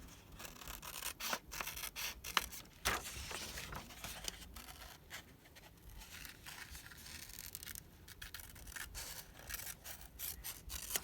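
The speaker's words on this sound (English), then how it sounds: "So now I need to get in there and cut them out." Scissors fussy-cutting paper shapes, a steady run of snips and rustling paper, close and fairly quiet, with no talking.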